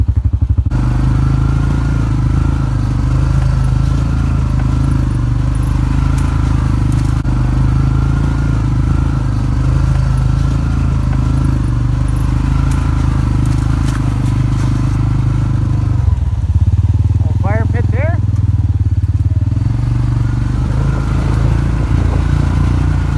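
A Massimo Hisun 700 UTV side-by-side drives a muddy ridge trail, its engine droning loud and steady throughout with rattling and scraping from the terrain, recorded from on board.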